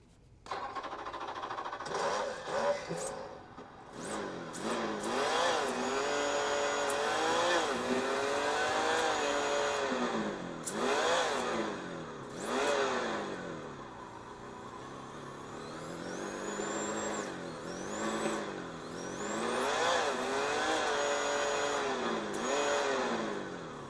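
A Meus micro sound module in a mini RC vehicle plays a simulated engine sound revving up and down over and over, pitch sweeping smoothly between idle and higher revs, steady and fairly loud with no talking.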